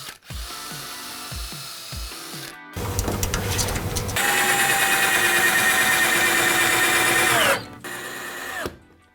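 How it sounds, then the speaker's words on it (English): A power driver drives 4-inch screws through a wooden frame into ceiling boards, with short bursts of whirring and ratcheting, then a long loud sustained run and a final brief burst, close by. "drill further pilot holes through the wooden frame, driving your screws into the ceiling boards"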